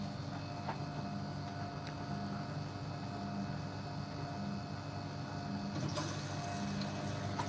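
A Hotpoint washing machine runs its final rinse on a fast wash with tea towels, giving a steady low churning hum and watery swish, close and continuous, with a brief clunk near the end and no talk.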